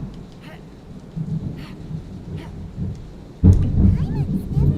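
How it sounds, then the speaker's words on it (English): A Genshin Impact thunderstorm. Light rain patters with faint rumbles, then a sudden loud, close thunder crash hits and rolls on heavily to the end. "My loud thunder incoming."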